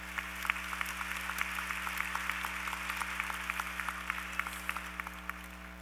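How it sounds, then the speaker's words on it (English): An audience at a university school of mass communication ceremony applauds steadily, a dense patter of clapping heard from a distance over a constant hum, with no voices. "Let's give them a round of applause."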